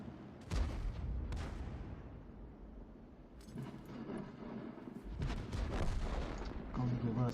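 Tank cannon fire in a Hummel armored-vehicle video game: several heavy booming shots echo across the clip, each followed by a rolling rumble, with faint game noise between them.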